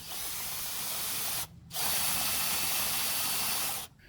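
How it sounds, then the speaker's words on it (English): A power drill whirs steadily at high speed, close up, spinning a string trimmer's drive shaft, stopping briefly once before spinning up again, then cutting off. "I'm going to use a drill to spin the shaft"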